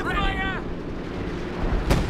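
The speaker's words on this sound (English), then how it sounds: "here comes the Howie. He's barraging the mortar pit." A howitzer barrage hits a mortar pit in the video game Company of Heroes 2: a high whistle of an incoming shell, then a short low rumble and one sharp, loud impact at the very end.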